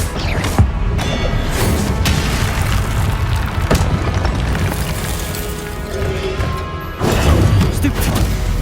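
Confringo blasting spells explode during a Hogwarts Legacy duel, with repeated loud, boomy blasts and crashes over a dense, continuous game soundscape; a voice calls out spell names between the impacts.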